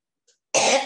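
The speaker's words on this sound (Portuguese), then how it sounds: "porque eu fico tossindo" A single short, harsh cough breaks from near silence at close range, preceded by a faint breath.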